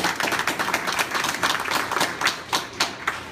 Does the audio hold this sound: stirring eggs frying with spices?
no